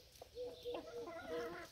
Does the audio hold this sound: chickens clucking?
yes